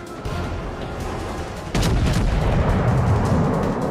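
Heavy naval guns of the cruiser Pyotr Velikiy firing in World of Warships, a loud low rumbling blast that jumps up sharply partway through and rolls on as sustained booming with no voices.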